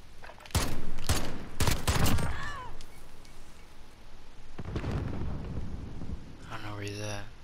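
Gunfire rings out in a 2v2 video game match: loud, close bursts of rapid shots at the start, then fainter volleys, with voices talking over the action.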